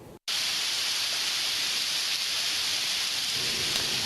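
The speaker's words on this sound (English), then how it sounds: "You can hear those drops pounding down on the pavement there." Heavy rain pounding on pavement during a severe thunderstorm, a dense, loud, continuous hiss that starts abruptly after a split-second gap and stays steady to the end.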